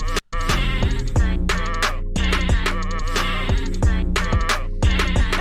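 Loud, close sheep bleats repeat in a rhythmic string over a musical backing for a show intro, each quavering cry following quickly on the last, with a brief dropout near the start.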